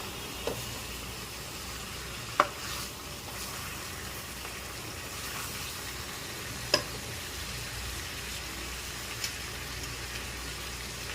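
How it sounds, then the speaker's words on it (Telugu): Chicken pieces fry in a pan with a steady, fairly quiet sizzle and crackle that carries on throughout, broken by a few faint clicks and taps, with no voices. "ఇంకా బాగా ఫ్రై అవ్వాలండి."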